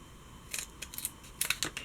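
Scissors snip through paper for a paper doll stand, making several quick, close, crisp cuts in two short clusters over a quiet background.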